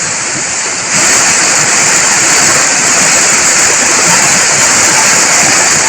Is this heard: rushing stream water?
yes